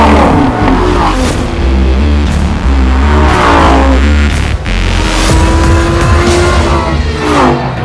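A loud Lamborghini Gallardo LP550-2 5.2-liter V10 engine revs and roars, pitch climbing and dropping through several sweeps, close and powerful with no talking.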